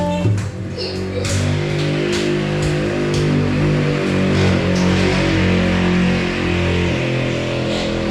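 A noisy tricycle engine drones loudly and steadily close by, its low motor hum and rattle filling the scene outside a home where fish is about to be fried.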